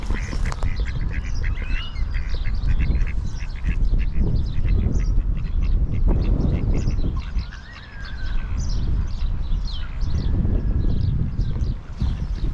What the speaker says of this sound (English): As usual, ducks.